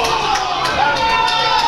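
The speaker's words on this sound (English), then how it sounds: "Bellevue rouses the crowd." A darts league finals crowd cheers and roars continuously, a dense wash of shouting and whooping from many voices with no single standout call.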